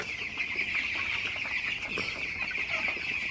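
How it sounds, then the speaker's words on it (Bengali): A flock of broiler chickens feeds together, producing a steady, dense chorus of soft clucks and peeps that continues throughout without pause, moderately close and unaccompanied by speech. "তো আপনারা দেখতে পাচ্ছেন ব্রয়লার মুরগিগুলো খাইতেছে"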